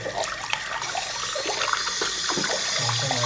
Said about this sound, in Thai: ใส่น้ำไปล้างลองล้างแก้วดูได้เลยนะครับ